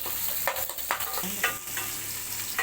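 Onion and spinach greens sautéing in a pan, with a steady close sizzle broken by several sharp scraping stirs of a spoon against the metal.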